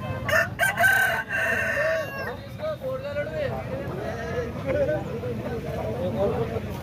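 A rooster crows at a crowded native country chicken market, its call ringing out over a continuous backdrop of voices and bargaining.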